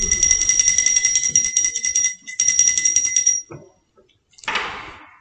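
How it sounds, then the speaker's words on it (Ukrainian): Small metal bells ring in a rapid continuous jingle for a few seconds, pause briefly, then ring again before a short rustle. "Це малесенькі дзвіночки. В них тоненькі голосочки."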